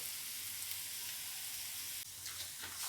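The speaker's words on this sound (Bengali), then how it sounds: "সুন্দর ভাজা হয়ে যাবে" Food frying in hot oil in a pan at raised heat, a steady close sizzle that runs throughout, briefly dipping then resuming with light crackles near the end.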